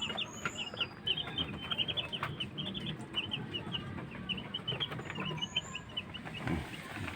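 Newly arrived chicks peep in a busy stream of high, rapid chirps, close and fairly soft, with no talking.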